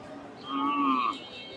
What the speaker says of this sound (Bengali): সুন্দর একটা সার গরু